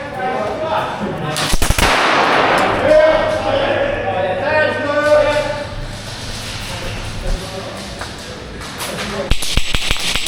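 A Wolverine DIG 2 MTW airsoft gun fires during a game at an outdoor airsoft site, with sharp rapid bursts of shots near the start and again near the end over steady background noise, while voices are heard.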